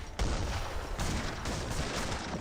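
Fixed gun artillery firing in Age of Empires 3, a steady barrage of heavy booms and gunfire blending into a dense, continuous battle din with no voices.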